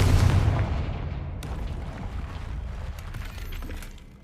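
A Confringo spell explosion in the video game Hogwarts Legacy bursts with a heavy, booming blast up close, followed by a crackling, rumbling debris wash that slowly fades out over several seconds.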